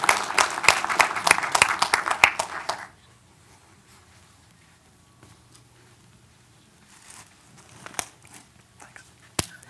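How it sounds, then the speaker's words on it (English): A church audience applauds a guest speaker: about three seconds of loud, dense clapping that breaks off abruptly, followed by near silence with faint room noise and a few soft knocks. "just give this guy a big round of applause"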